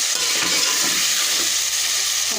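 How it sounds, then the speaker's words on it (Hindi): Raw potatoes fry in a masala, giving a loud, dense and continuous sizzle that stays steady throughout, with faint stirring underneath and no voices. "आलू कच्चे हैं इसलिए मैं इनको भून लूँगी इस मसाले के साथ अच्छी तरह भून लेंगे"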